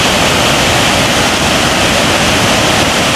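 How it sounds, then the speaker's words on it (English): Waterfall pouring over rock in Alaska with heavy spray rising, a steady loud broadband roar of rushing water filling the whole stretch with no break. "there's more of the evidence of the falls coming over the rock"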